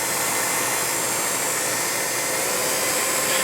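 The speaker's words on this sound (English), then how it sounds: "It's a very quiet mechanism. Aside from the motor noise, this is really not that loud of a unit." The motor of a 1949 Revere P-90 8mm movie projector runs continuously with a steady, broadband whir and hum at close range, with no pauses or talk.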